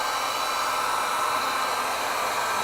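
A hair dryer blows on gouache paint dots, producing a steady, loud, unbroken whoosh of air that holds at one level from start to finish.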